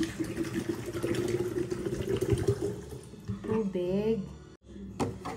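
Water runs steadily into a kettle for several seconds, a broadband rushing pour, then cuts off abruptly near the end with a brief clatter after.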